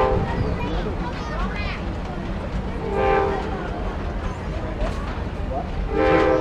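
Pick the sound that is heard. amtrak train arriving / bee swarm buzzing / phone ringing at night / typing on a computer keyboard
amtrak train arriving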